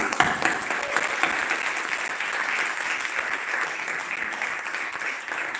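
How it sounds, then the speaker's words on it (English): An audience applauds photographer Maximilian at a Goethe-Institut event in Rome, giving a steady, dense wash of many hands clapping that holds at an even level throughout. "to clap for our photographer Maximilian"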